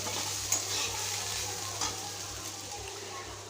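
Pakoras sizzle steadily in hot oil in a pan, a continuous crackling fry with a few light scrapes or clicks, no talking.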